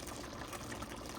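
Gravy poured into a pot of pork and cabbage as a brief continuous liquid gush, close and steady, with no talking.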